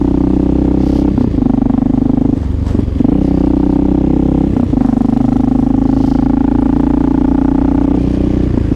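A Honda XR650L motorcycle fitted with an aftermarket Lex exhaust and silencer tip rides through snowy New York City streets, its engine droning loud and close with a few brief dips in revs.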